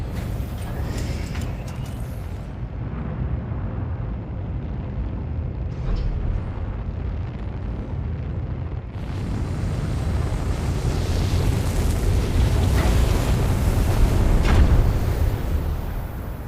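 A weak aircraft auxiliary engine drones steadily in a Stellar Blade video game cutscene, a broad rushing roar like wind that grows louder and fuller partway through and stays strong to the end.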